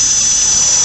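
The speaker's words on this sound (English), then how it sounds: "work zone drill, and then wire brush on it" An electric drill spins a wire brush against a rusty rear brake disc on a Kia Ceed in a steady, close, high-pitched whir with a gritty scraping hiss, unbroken for under a second.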